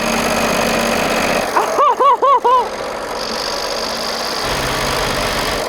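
A BMW or Porsche engine running without oil at about 2,000 RPM drones loudly and rattles, with a short burst of rising and falling tones partway through.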